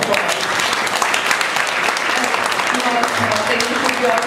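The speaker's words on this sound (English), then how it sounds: "Parents, it deserves a big round of applause." Parents at a Trinity International School Sion pre-primary talent show applaud for the full stretch, a dense, steady wash of clapping from a crowded hall.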